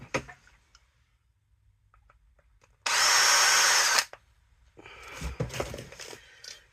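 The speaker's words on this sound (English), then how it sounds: "Let me just get the drill on that minute." A power drill whirs loudly for about a second in a single burst, surrounded by quiet room sounds and some clattering afterward.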